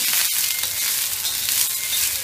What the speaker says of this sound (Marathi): तर 1 ते 2 मूठ मटकी टाकून घ्यायची तव्यामध्ये आणि तेलावर छान परतवत राहायची आहे कुरकुरीत होईपर्यंत